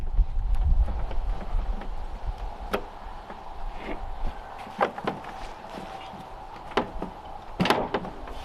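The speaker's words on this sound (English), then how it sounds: "We'll put this latch underneath the rod." Metal latch on a Toro TimeCutter mower's dual bagging system snapped under a rod, heard as a series of close clicks and clunks with light rattling between them, no talk.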